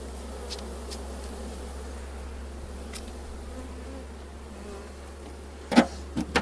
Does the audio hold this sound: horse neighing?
no